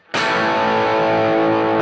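Electric guitar through a NUX Cerberus pedal switched onto the red drive channel, a single loud distorted chord struck and held, ringing densely and close before cutting off.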